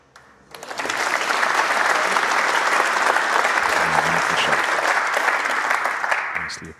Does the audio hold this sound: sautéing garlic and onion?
no